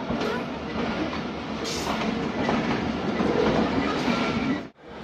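Passenger train running steadily on railway tracks toward Bakhar railway station, with a loud continuous rolling rumble and rhythmic clatter that cuts off abruptly near the end.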